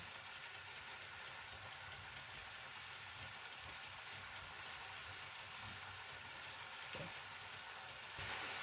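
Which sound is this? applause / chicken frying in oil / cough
chicken frying in oil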